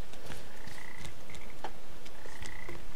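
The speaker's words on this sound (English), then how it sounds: "Who would have known throwing frogs through a hole was so difficult?" Frogs croak in the video game Papo & Yo as they are thrown, giving short, bright croaks and chirps in a few bursts over a quiet ambient game background, with no talking.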